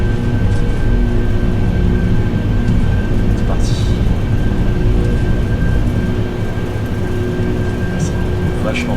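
Airliner engines in X-Plane 12 drone steadily during the takeoff roll, a dense, rumbling wash with a thin high whine running throughout, and someone speaks briefly over it.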